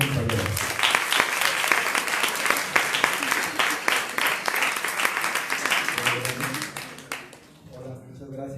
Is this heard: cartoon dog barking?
no